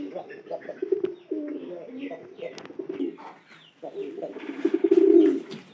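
Pigeon cooing close by in low, throaty rolling phrases that repeat several times, with a voice talking over parts of it.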